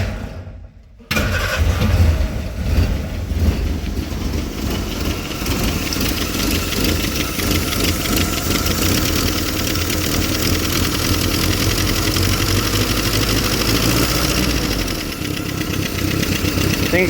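A Willys CJ-2A jeep engine, unrun for about 20 years, cranks and fires after about a second of quiet, then settles into a loud, steady, slightly rough idle that continues to the end.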